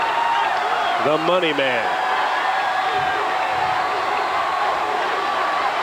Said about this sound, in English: he was getting a standing ovation